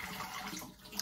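Tap water runs steadily into a bathroom sink while makeup is rinsed off by hand, a soft continuous splashing with no talking.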